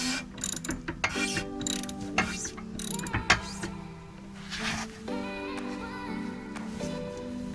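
Ratcheting tool clicking as it loosens a bolt while lowering a C7 Corvette Stingray, irregular mechanical clatter and ratchet clicks at close range, fairly quiet.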